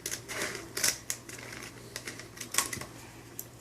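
Scissors trim the lining of a soap mold, giving a quick run of sharp, close snips and crisp cuts in an uneven rhythm, with no talking.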